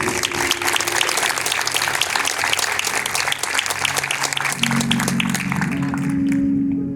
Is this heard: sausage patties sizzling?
no